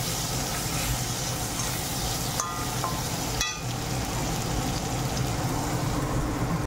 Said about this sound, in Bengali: আর এদিকে পেঁয়াজ ভাজা হচ্ছে, ভাজা হয়ে গেছে।